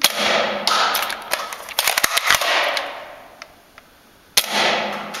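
Nerf Strongarm blaster firing an N-Strike Elite foam dart: sharp mechanical clacks and snaps of priming and release, a cluster of quick clicks mid-clip, loud and close, with no speech.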